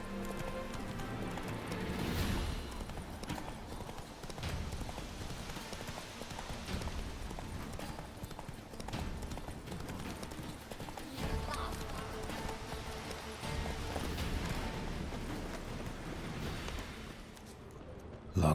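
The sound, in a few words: horse Roach galloping in video game The Witcher 3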